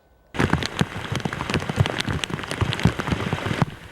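Heavy rain from Tropical Storm Bertha on the South Carolina coast near Charleston comes in suddenly as a dense, loud wash of drops and splatters, then cuts off sharply.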